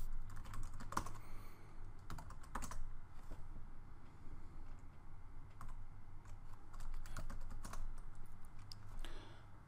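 Commands typed on a computer keyboard into a terminal: close, irregular bursts of crisp keystrokes with short pauses between them, and no voices.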